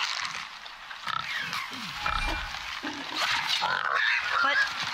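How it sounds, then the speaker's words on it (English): A boar in the PC game God of War grunts and oinks in short bursts, mixed with in-game ambience while a person talks over it. "I can hear it go oink oink"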